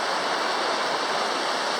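A trail creek running high and fast, giving a loud, steady rush of flowing water up close with no voices.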